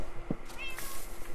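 A cat meows once in Minecraft, a short clear mew over a background of game ambience and soft noises.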